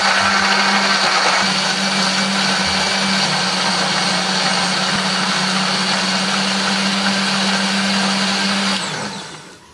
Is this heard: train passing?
no